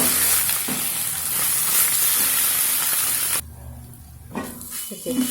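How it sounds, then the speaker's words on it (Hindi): Mixed spinach, bathua and mustard greens sizzle and hiss loudly in a hot pan while a spoon stirs them. The sizzling drops quieter briefly, then the stirring scrapes resume. "साग भून गई।"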